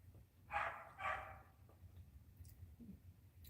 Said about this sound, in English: dogs are killing me